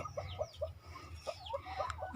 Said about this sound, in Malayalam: ഒരു 2 ബ്രോയിലർ കോഴിയുണ്ട്, പിന്നെ മുട്ടക്കോഴികളുണ്ട്, നാടൻ കോഴികളുണ്ട്.